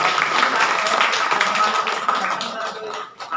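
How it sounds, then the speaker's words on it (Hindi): Audience clapping for an honoree at a felicitation event with garlands, a steady dense patter of many hands sustained throughout and easing off near the end. "धर्मशील जी के लिए जोरदार ताली होनी चाहिए"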